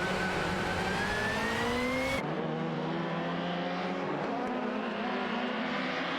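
Race car engines from a racing video game, a Peugeot 406 and a Nissan Primera running close together, give a steady loud drone with rising pitch lines and a sudden shift partway through, with no talk.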